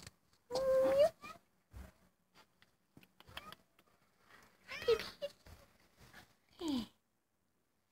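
A feral cat gives a few short meows, spaced out among soft rustles and faint background noises outdoors.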